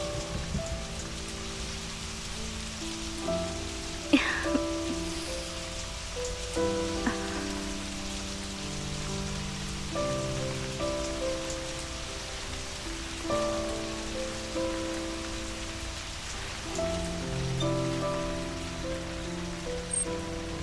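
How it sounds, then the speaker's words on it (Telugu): Rain falls steadily on surfaces nearby, a continuous hiss with scattered louder drips and patters running through the whole stretch without pause. "హే వర్షం, ఆ?"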